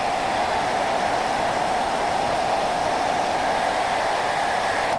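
A heat gun blows hot air onto an action figure, giving a loud, steady rushing hiss of air that holds at the same level from start to finish, close and alone.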